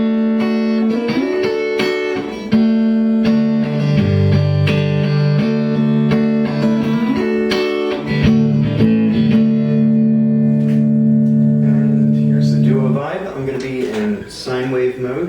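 An electric guitar plays through the rhythm channel of an amp with the effects pedal bypassed, sustained chords and bass notes ringing loud and clear, alone with no talking.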